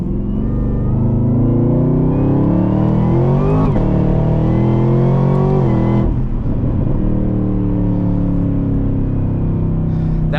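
A 2022 Chevrolet Camaro ZL1 with an automatic gearbox accelerates hard, its loud, close engine note climbing steadily with two shift breaks, heard from inside the cabin.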